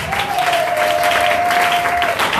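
A church congregation clapping steadily and fairly close, with a single sustained whistle or held vocal tone running through most of it.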